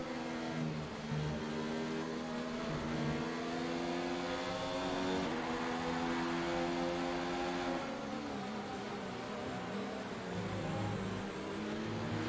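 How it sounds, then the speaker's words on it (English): A Formula 1 car engine in the racing game F1 2019 screams through gear changes with rising and falling pitch, sustained and steady, with no voices over it. "Engine sounding beautiful."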